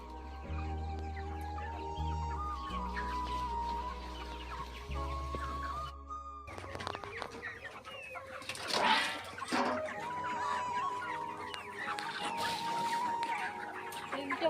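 Chickens on a poultry farm where many birds are dying, clucking and calling steadily nearby over a low mechanical hum that cuts out partway.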